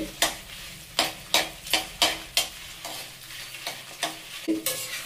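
Dried red chillies fry in a pan over low to medium flame under a soft, constant sizzle, broken by a series of sharp, rhythmic scrapes and taps as a spoon stirs them, about ten strokes in quick succession.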